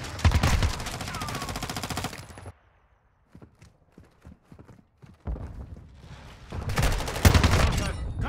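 Gunfire in Call of Duty Modern Warfare 2 comes in loud, dense automatic bursts, then a lull of scattered single shots and clicks, and then another heavy burst of sustained fire.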